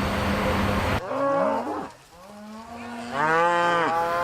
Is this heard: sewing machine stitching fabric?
no